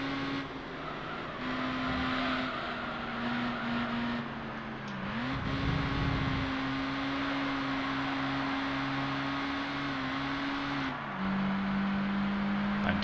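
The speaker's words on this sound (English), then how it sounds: "bounced off the rev limiter." A Mazda MX-5 Roadster engine in the Gran Turismo 3 video game holds a steady high-pitched drone, briefly dipping and hitting the rev limiter, with a short rough burst midway and another car passing, loud and continuous with no talking.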